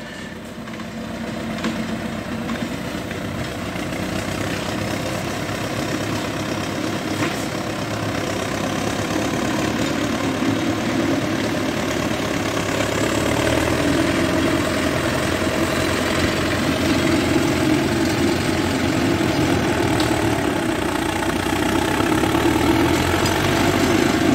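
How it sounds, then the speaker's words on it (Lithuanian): A small tractor engine runs steadily while mowing grass, a continuous mid-low drone with slight knocking that grows a little louder over the stretch, with no voices. "Traktoriukas dar dirba"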